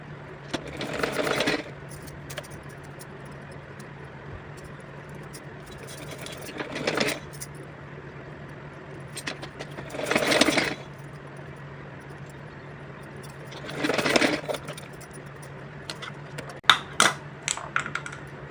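A sewing machine stitching a small fancy dress for a Laddu Gopal doll from leftover fabric, running in four short whirring bursts separated by quieter pauses, with a few light clicks at the end.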